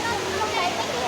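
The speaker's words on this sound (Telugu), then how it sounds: "వాటర్ ఫ్లో బాగుంది చూడడానికి." Water flows in a steady, continuous rush close by, an even broadband hiss with no pauses for the whole moment.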